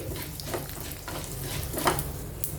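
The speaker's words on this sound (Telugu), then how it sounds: "ఈ పోపు దినుసుల్ని మీడియం ఫ్లేమ్లో ఇలా కలుపుకుంటూ ఫ్రై చేసుకోవాలి" Tempering spices crackling in oil over a medium flame, a soft continuous sizzle with intermittent stirring scrapes and light clinks of a spoon against the pan.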